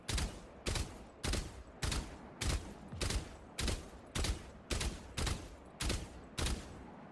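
Steady bursts of rifle fire in the tactical shooter Valorant, about a dozen sharp cracks spaced evenly at roughly half-second intervals, loud and close, with no voices.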